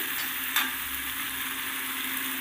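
Potatoes stirred and fried in a spice masala, a steady close sizzle with a brief scrape of stirring partway through, no voices.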